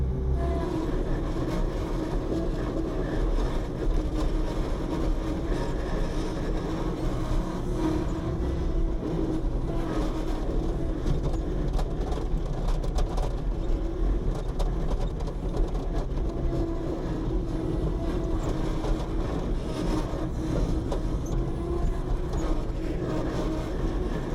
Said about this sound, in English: I don't know if you can hear the truck running around or not.